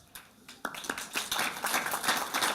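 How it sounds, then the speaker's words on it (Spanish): Audience applause breaking out after a closing speech at a national youth parliament session, starting as scattered claps and quickly swelling into dense, steady clapping from a room full of people. "no hay aplausos después de un discurso final"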